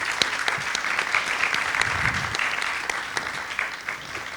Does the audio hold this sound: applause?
yes